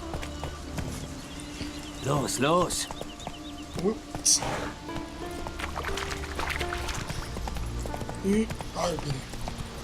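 Horse hooves clip-clopping during a ride through a forest in the video game The Witcher 3, a brisk rhythmic gallop under someone speaking German over the game sounds.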